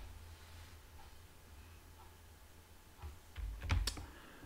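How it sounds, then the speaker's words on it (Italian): A computer keyboard is typed on, with a short burst of faint, close keystroke clicks near the end over a low steady hiss. "tastiera"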